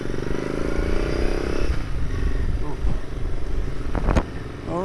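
Royal Enfield Interceptor motorcycle with an aftermarket exhaust and aftermarket air filter, its engine idling with a steady low rumble that fades a little partway through, with clattery mechanical sounds and some talk nearby.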